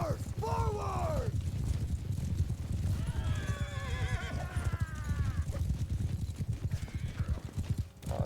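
Horses whinny loudly in a Mount and Blade 2 Bannerlord battle, several drawn-out neighs over constant clip-clop of hooves and battle noise, with someone talking over it.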